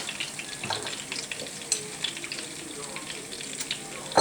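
Butter melts and sizzles in a pan for red pepper, with a soft, continuous frying hiss and occasional light clinks of a utensil, fairly quiet and close.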